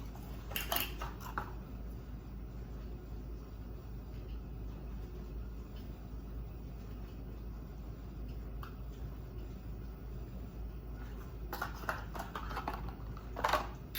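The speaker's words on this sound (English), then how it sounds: "now we're gonna get our lids on" Metal lids are set onto canning jars of homemade organic tomato ketchup, with a few light metallic clinks near the start and a cluster of clinks toward the end over a low, steady background hum.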